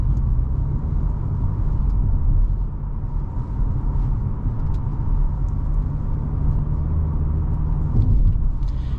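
A 2022 Audi S4 Premium Plus with sport-tuned suspension rolls over a bumpy, pothole-strewn road, giving a steady, loud low rumble of road and engine noise with a few thumps throughout and no talking.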